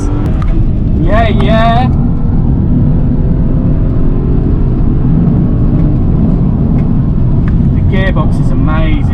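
Stage 1 tuned BMW 335i accelerating hard through the gears, a loud continuous engine drone heard from inside the car, with brief rising whistles at the shifts and a voice speaking briefly near the end.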